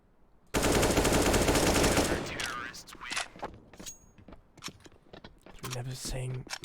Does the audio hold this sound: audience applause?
no